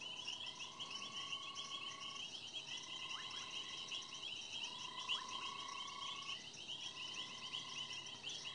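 A running frog's high-pitched trilling, purring call repeats in long bursts over a constant bed of insect chirps and night chorus, with no voices.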